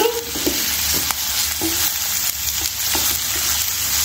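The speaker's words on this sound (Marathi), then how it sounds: "आता ढोबळी टाकायची." Capsicum sizzles loudly with onions already frying in a pan. A continuous hiss fills the background while a spatula taps and scrapes the pan a few times, up close.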